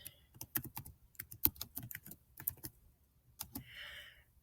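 Rapid bursts of typing on a Chromebook keyboard as a folder name is entered, crisp close clicks in quick uneven runs with short pauses, ending in a brief softer rustle.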